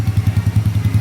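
A Honda 155 scrambler motorcycle with a new exhaust idles close by with a deep, rapid, even pulsing from the exhaust, a steady throaty putter.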